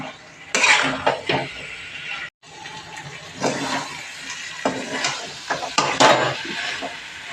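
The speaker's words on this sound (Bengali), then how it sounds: "ভালো করে একটু ভেজে নেব ওগুলোকে" Boiled, salted kabuli chickpeas being fried and stirred in a pan, with a spatula scraping and clattering against the metal in repeated bursts over a low sizzle and a short break partway through.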